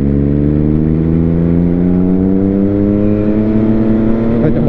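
An 800 cc three-cylinder motorcycle engine revs steadily and loudly up close, a strong droning whir whose pitch climbs gradually throughout.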